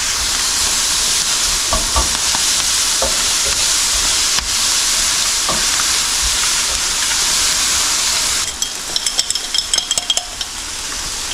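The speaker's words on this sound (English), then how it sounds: "I like that ginger in there. And a bit of garlic. Give that a good stir." Ginger and garlic fry in a pan on a boat, a steady bright sizzle running throughout, with soft scrapes and knocks of a utensil stirring, then a shift to crackling spits near the end.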